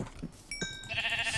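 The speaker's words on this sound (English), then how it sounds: "We're just gonna kill some sheep real quick." Minecraft sheep bleat in short wavering cries, two or three close bleats in quick succession within a farm setting.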